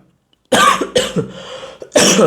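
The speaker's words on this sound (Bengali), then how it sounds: "সরি একটু কাশি হচ্ছে" A person coughs three times, close and loud, with short breaks between the harsh bursts and silence before the first one.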